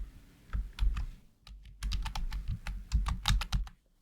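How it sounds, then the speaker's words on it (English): Computer keyboard keys pressed in quick irregular bursts of sharp clicks while editing transitions in DaVinci Resolve, close and fairly loud, with a short pause near the middle. "just click on or your keyboard, just press shift plus backspace"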